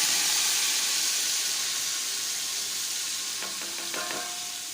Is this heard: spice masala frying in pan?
yes